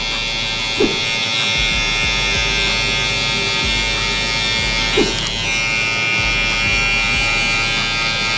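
Electric hair clippers fitted with a number two guard hum steadily and close up during a barber line-up, with a constant buzzing drone and a couple of faint clicks of the lever; no speech.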